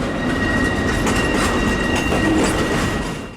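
Amtrak's Auto Train rolling past close by, a loud continuous rumble of rail cars with rhythmic wheel clatter and a faint high squeal, no voices.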